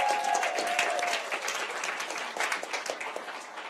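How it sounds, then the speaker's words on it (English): Audience applause for Mary Kay Henry, SEIU International President, at an AFSCME labor panel in Memphis; dense sustained clapping from a large crowd, fading slightly over several seconds, with a brief faint voice early on. "Give her a round of applause"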